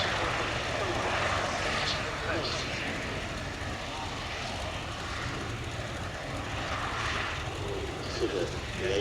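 Engine drone of a vintage biplane at the Shuttleworth airshow, a steady moderately distant propeller hum under the voice of a commentator.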